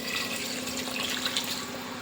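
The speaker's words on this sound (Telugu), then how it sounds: "1 గ్లాస్ వాటర్ పోస్తున్నానండి." A glass of water pours into a pan of mutton liver curry, making a steady, close splashing gush with no talk over it.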